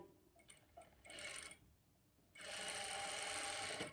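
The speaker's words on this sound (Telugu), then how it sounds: "ఈ మార్కింగ్ దగ్గరికి క్రాస్గా స్టిచ్ చేసుకోవాలి" Sewing machine stitching across the marked dart line on a blouse front panel, two bursts of rapid whirring stitches, the second longer and steadier, close and fairly quiet with no talk.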